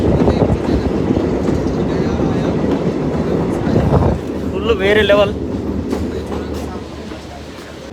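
A packed passenger train on the Srinagar to Banihal line, heard from inside the carriage: a loud, continuous rumble and rattle of wheels on rails, with people talking over it.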